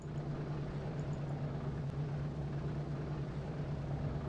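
A B-17 bomber named Mischief comes in to land in a flight video game, its piston engines a steady, loud droning hum that holds unbroken throughout.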